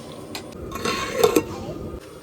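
A metal lid clinks onto a cooking pot of ilish biryani in a home kitchen, two sharp close clanks amid quieter scraping and rattling, fairly soft overall.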